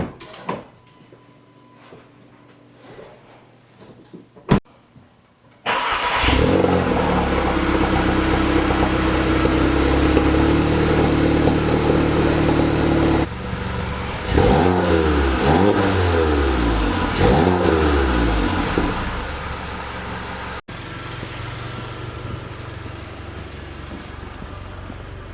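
A VW GTI MK7 with a catless downpipe is started after quiet clunks, then idles loudly before a series of sharp revs that climb and fall, settling back to a steady idle.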